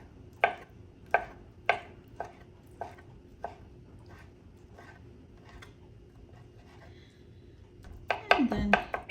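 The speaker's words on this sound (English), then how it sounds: "First cut it into small pieces. And then again into small pieces this way." A knife cuts herring into small pieces on a board, about seven crisp chops spaced evenly close by, followed by a busier cluster of chopping and scraping.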